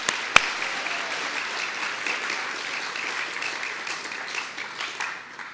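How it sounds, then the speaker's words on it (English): Steady audience applause at a science lecture, moderately soft and even, opening with one sharp clap and tapering slightly toward the end. "Let's give him a round of applause."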